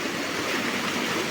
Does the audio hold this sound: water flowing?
yes